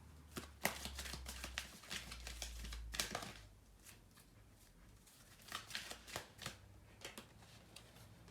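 Tarot cards being shuffled by hand, a quiet close riffle of rapid papery slaps in several bursts separated by short pauses.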